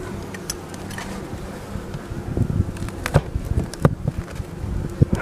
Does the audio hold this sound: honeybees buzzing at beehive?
yes